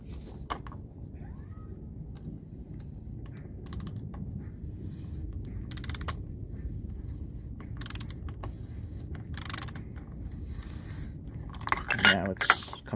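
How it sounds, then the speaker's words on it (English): A torque wrench tightens a bolt to 25 newton meters during maintenance on a 2006 Mercedes E500 4Matic with 112k miles, giving faint ratcheting clicks and metallic ticks over a low background hum, with sharper clicks near the end. "we're going to tighten this down and turn it until it clicks"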